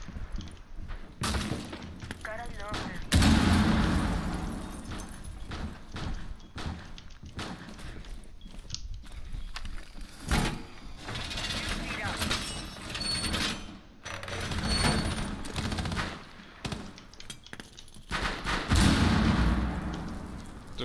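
Gunfire blasts out windows in Rainbow Six Siege, with repeated sharp bangs and crashing breaks scattered through a long stretch of busy in-game action, some hits loud and close, others duller.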